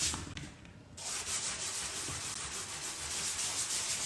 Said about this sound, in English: May need a rougher sandpaper